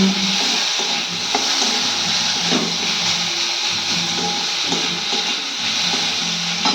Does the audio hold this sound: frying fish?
yes